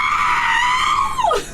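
A human voice imitates the R2-D2 droid scream from Star Wars, a loud, sustained, whistly electronic-style shriek that holds steady and then swoops sharply downward at the end.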